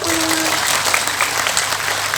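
An audience breaks into loud, sustained clapping that stays even throughout, with a brief tone at the start.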